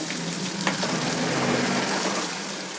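Onions frying in oil in a pan for bisi bele bath, giving a loud, steady, close sizzle with faint stirring scrapes and no speech.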